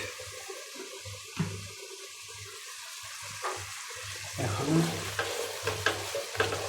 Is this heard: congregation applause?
no